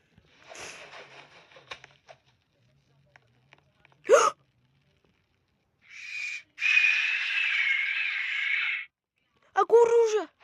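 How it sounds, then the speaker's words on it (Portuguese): An owl in 99 Nights in the Forest gives a sustained hoot-like call, preceded by scattered soft thumps and a sharp burst, then followed by a short warbling cry; a voice speaks briefly early on. "A coruja!"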